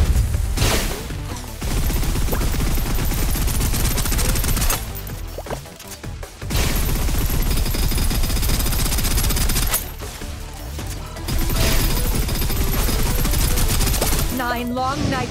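Sustained gunfire in the video game Snowbreak: Containment Zone, loud dense bursts of automatic fire that run almost continuously with brief gaps, layered with impacts and game effects.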